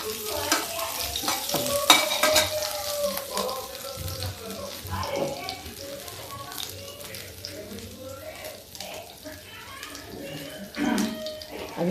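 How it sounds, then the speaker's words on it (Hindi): Cumin and chili tempering sizzles and crackles in hot oil with a few sharp pops near the start, stirring noises mixed in, while a person talks over it. "ये देखिए बस अब इसमें एक तड़का लगा देंगे।"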